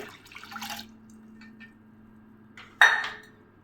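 A few soft kitchen clinks, then a sudden splash of water landing in a metal pot of bitter gourd sambar with shallots, trailing off after a moment.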